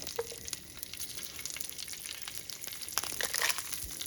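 Lentils frying in a pan for a gongura chutney make a faint, crackly sizzle with small popping ticks and light stirring, close but soft, swelling slightly toward the end.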